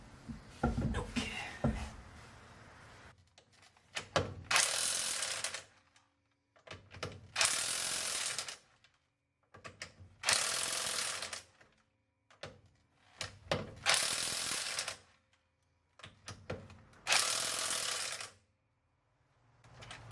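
A ratchet tightening wheel bolts on a 1984 VW T3 Vanagon with longer rear wheel studs, repeated bursts of rapid clicking, about six runs of a couple of seconds each with brief pauses between, close and clear.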